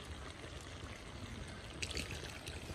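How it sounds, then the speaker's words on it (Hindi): Water poured into a pot while chicken cooks in a home kitchen, a steady splashing trickle with brief louder spills near the end, fairly close. "पानी डालियो"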